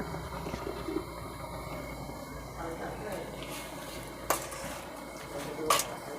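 A spoon stirs a Thai mushroom curry with fresh fish and sweet leaf greens in a pot, soft scraping and a couple of sharp metallic clinks against the pot rim over a low simmer, with someone talking throughout.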